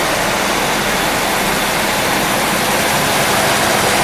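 A 1975 Corvette C3 convertible, revived after sitting neglected for 34 years, runs at high idle with a loud, steady, unbroken engine roar and no voices.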